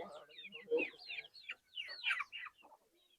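Chickens cluck in short, scattered bursts of a few seconds, fairly close, with some background voices mixed in.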